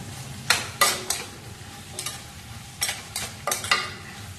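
A spoon stirs vegetable pulao with red chili powder in a pan, with several distinct scraping strokes over a low, steady sizzle.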